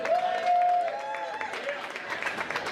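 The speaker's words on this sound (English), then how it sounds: "give them a round of applause they deserve" An audience at a nominations livestream event applauds, a brief burst of crowd clapping that starts after a sustained voice and continues at moderate level with scattered claps and voices.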